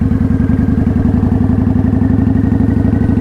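A motorcycle engine pulls away in first gear at low throttle with no clutch work, circling a parking lot; a steady, close, pulsing low-frequency thrum rolls on evenly with no talk over it.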